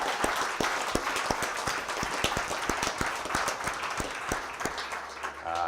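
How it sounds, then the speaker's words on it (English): An audience applauds steadily at a community gathering, a dense wash of many hands clapping with sharp individual claps standing out, sustained throughout and fairly close. "can we just give them a round of applause?"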